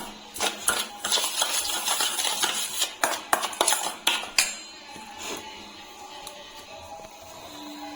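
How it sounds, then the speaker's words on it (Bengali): A spoon clinks and scrapes against a bowl while stirring sugar into strained sour yogurt, giving a run of quick close taps and scrapes that thin out into softer stirring. "চিনিটাকে আমি দইয়ের সঙ্গে একটু ভালো করে মিশিয়ে নিচ্ছি।"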